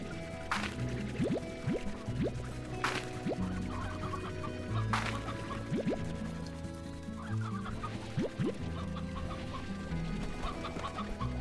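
A chicken in the video game Slime Rancher clucks repeatedly in short bursts, with soft liquid drips and a faint game background running underneath.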